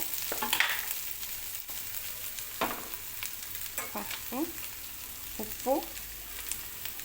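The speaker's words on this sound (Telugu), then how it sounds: "ఇలా కొంచెం ఉల్లిపాయలు ఎర్రగైన తర్వాత కొంచెం పసుపు," Onions frying with turmeric in a pan for a bitter gourd curry, with a steady, moderately loud sizzle broken by occasional stirring scrapes.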